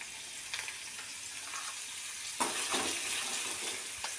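Cucumber curry ingredients sautéing until golden, a soft, even sizzle with a few spoon scrapes and clinks against the pan, fairly quiet and close.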